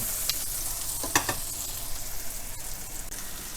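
Chicken breast frying in a pan, a close, steady sizzle with a few louder spits and crackles as it is turned, no voices.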